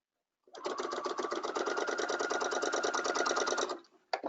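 A sewing machine stitches tulle with its stitch length set too small, running at a steady fast rattle for about three seconds close up before stopping.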